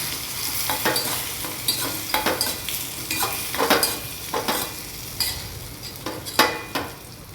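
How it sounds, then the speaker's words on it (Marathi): Potato pieces with salt and red chili being stirred in a hot pan, a steady sizzle under repeated scraping strokes of a spoon against the metal, close and moderately loud, with no voices. "मीठ आणि लाल तिखट टाकून झाल्यानंतर त्याला चांगले हलवायचे आहे मिक्स करून घ्यायचे आहे"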